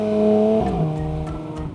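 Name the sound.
Porsche Cayman GT4 RS engine as driver downshifts in manual mode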